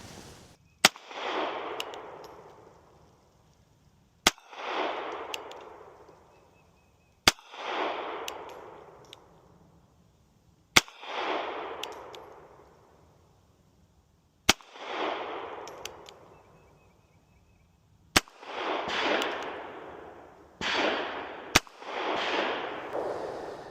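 Seven sharp pistol shots from a KelTec P3AT fired at an outdoor range at 20 yards, each a crisp crack followed by a decaying echo, spaced a few seconds apart with the last two closer together.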